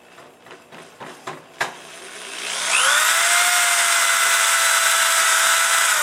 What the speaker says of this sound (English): Now when you drill your bottom hole